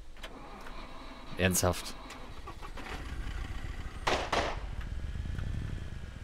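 A quad bike in the survival game SCUM on its first drive: a low, steady engine hum running throughout, with a voice speaking briefly over it.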